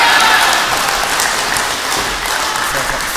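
A tennis crowd applauds at the Trans-Tasman Test Match 2022 during a morning singles session. The clapping is dense and sustained, loud and even throughout, with no break.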